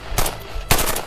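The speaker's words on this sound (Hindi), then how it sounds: "बस की तरफ से फायरिंग बढ़ गई है।" Two loud bursts of automatic gunfire in a TV drama shootout near a bus, close and sharp, separated by a brief gap.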